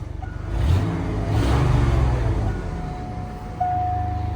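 A 1991 Ford F250 pickup's 306 V8 engine revs up twice from idle, strong low rumble rising and falling, close and loud, then settling back to a steady idle with a thin whine.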